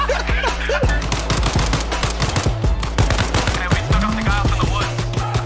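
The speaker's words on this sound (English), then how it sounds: "I'm getting shot." Assault rifle gunfire from the military game Arma Reforger, loud rapid bursts of close shots cracking in quick succession, with other game noises mixed in.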